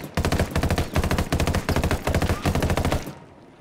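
Sustained assault rifle gunfire in the Ghost Recon video game, rapid bursts of shots fired in quick repeated volleys, loud and close, with a brief pause before the last burst ends.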